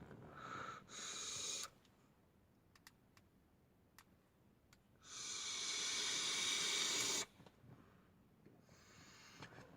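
Vaping on a HENGLING Qtank dual-flavor sub-ohm tank: two long airy hissing draws, a short one then a longer pull, with quiet clicks between them.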